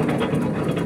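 An Arpal AM-120TR MAX mulcher runs on an MTZ 82.1 tractor. It gives a steady, close, low engine drone with a churning rumble for a brief moment.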